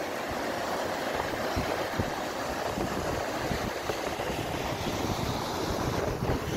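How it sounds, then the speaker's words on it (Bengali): Floodwater after a storm rushes along a main road, a dense, steady roar of moving water mixed with gusting wind buffeting the microphone, with no voices. "মেন রোড দিয়ে কীভাবে পানি চলাচল হচ্ছে দেখুন"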